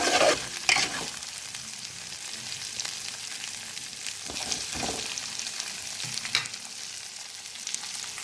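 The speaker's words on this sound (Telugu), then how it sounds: "చక్కగా అల్లం వెల్లుల్లి పేస్ట్ ములక్కాడలు చక్కగా ఆయిల్లో ఫ్రై చేసుకుందాం" Drumstick pieces sizzle in hot oil with ginger garlic paste, a steady frying hiss broken by several sharp scrapes and clatters of stirring in the pan.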